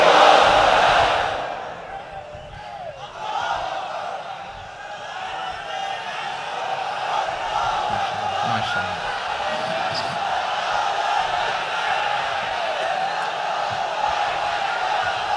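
Worshippers at a Bangla Islamic sermon (waz) chant the takbir together, a loud collective roar from a large crowd that rises, dips and then holds as a sustained chanted swell.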